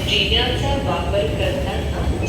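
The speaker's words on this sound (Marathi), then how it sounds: "अंडरग्राऊंड मेट्रोच्या इकडे आलो खाली" An underground metro train rumbles through a station, a steady loud drone with a high whine, and a voice speaks briefly nearby.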